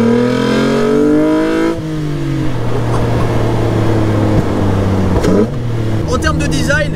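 A Jannarelly Design-1 V6 engine is heard close up through a large air filter, with a loud droning rev that drops pitch and then holds a steady cruising tone. There is a brief blip near the end.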